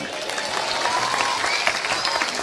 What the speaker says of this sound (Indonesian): Ketepuk tangan ya, ngapa ya? Tepuk tangan telat.